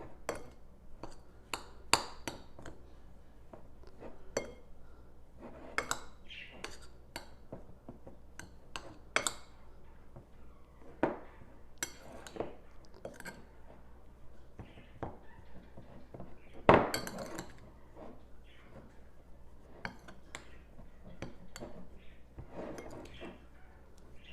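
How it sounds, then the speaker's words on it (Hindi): A spoon clinking and scraping against a pan as ground garam masala and spices are mixed for a spicy eggplant curry; quiet, irregular metallic taps and clinks with one sharper knock, no talk. "अब इसको हम मिक्स कर लेते हैं, अच्छी तरह मिक्स कर लेते हैं"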